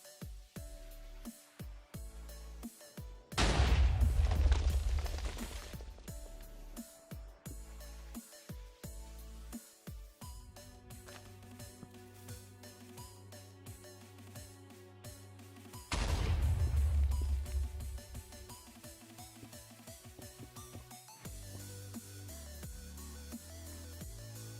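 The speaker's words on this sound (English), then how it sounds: "To be slightly far away from the heart's explosion because it is quite deadly." A heart explosion in the Minecraft modpack Project Ozone 2, played in hardcore mode: two loud, sudden booming blasts several seconds apart over steady game background music, each decaying into a rumbling tail.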